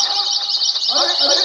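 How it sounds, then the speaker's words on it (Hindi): High, steady bird chirping fills the clip, with a voice speaking underneath in the second half. "चिड़िया की आवाज ये कितनी मीठी मीठी आवाज है।"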